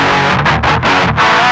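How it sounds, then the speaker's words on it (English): Guitar played through the tube-like distortion 2 setting of a Zoom Fire 7010 amp and effects processor, a loud, saturated chord chopped into several short bursts over about a second and a half. "This gives warm sounding distortion, similar to that of a tube amplifier"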